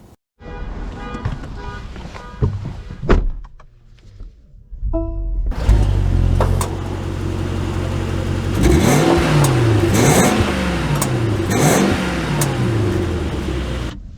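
A 2024 Mercedes GLS 580 luxury SUV pulls away and accelerates, its engine rising loudly through rising and falling gear sweeps with wind noise, heard close and alone after some quieter cabin sounds.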